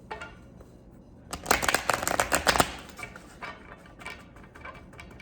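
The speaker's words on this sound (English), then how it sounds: "I'm going to give this one more shuffle." A deck of tarot cards gets a quick riffle shuffle, a close burst of rapid flapping clicks lasting about a second, followed by softer card handling and quiet rustles.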